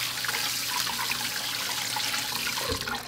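Tap water rinsing tumbled rocks and ceramic media in a strainer, a steady close rush of running water that continues throughout.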